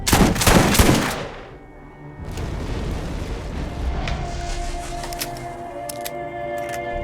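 Slow rockets fire in the Carnage Commando video game, opening with a loud burst of crackling blasts that gives way to a sustained, rumbling whoosh and hiss with faint metallic clinks, no voices.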